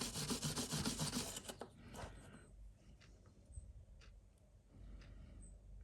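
A Scotch-Brite pad scrubs an old 1980s Casio watch in fast, close rubbing strokes for about a second and a half, then gives way to quieter handling and faint scraping.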